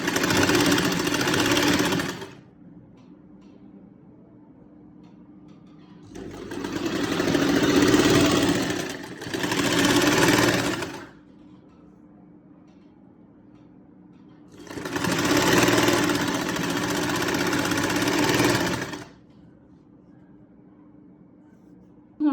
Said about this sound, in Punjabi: ਥੋੜੇ ਜਿਹਾ ਪਿਆਰ ਦੇ ਨਾਲ ਆਪਾਂ ਨਾ ਸਿਲਾਈ ਲਾਉਣੀ